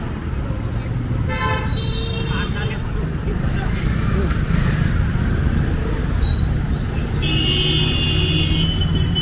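Cars and two-wheelers pass through More Vidyalay Chowk junction in Pune with a continuous engine rumble and occasional horn toots, close by, under someone talking.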